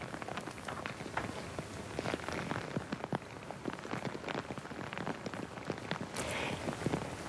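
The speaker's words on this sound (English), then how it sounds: "Heavy rain falling across several parts of Singapore" Heavy rain falling across parts of Singapore during a state funeral procession: dense, steady pattering on hard surfaces, continuous and close, with scattered sharper drops and faint crowd movement.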